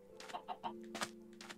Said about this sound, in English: Breed another chicken, please.